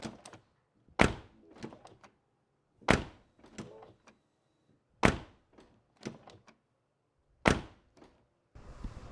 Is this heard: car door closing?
yes